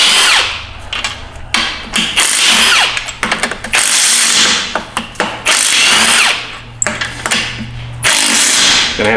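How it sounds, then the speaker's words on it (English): A power tool spins out 13mm bolts from a Ford ZF5 transmission on a 1997 F350, loud whirring bursts of several seconds each with short pauses between, close by. "Now we must remove all the 13mm bolts."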